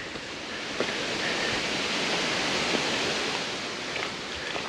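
Steady wind blowing across an Appalachian Trail mountainside in fall, a continuous broad rushing roar with slight swells and no voices.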